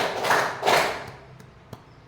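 A pair of broad, reverberant group hand claps sound during a clap-counting game at a junior high school gathering, followed by a few faint ticks in a quiet room.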